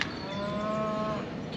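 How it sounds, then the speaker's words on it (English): Cattle on a farm fishery low out in a single drawn-out moo, clear and fairly close, with no one talking. "You can probably hear all the cows."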